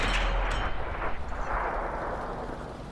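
In World of Tanks, a tank cannon shell strikes and bounces off the armour of a Super Pershing T26E4, a sharp metallic impact followed by a rumbling boom that fades over a few seconds.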